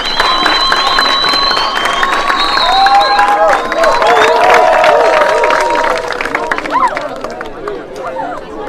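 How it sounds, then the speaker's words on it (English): Clapping from a school award audience honouring a student runs under lively crowd chatter and excited voices, holding steady before thinning out toward the end. "Welcome him with a hand of applause as he comes down to you."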